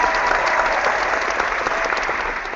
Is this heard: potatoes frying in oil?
no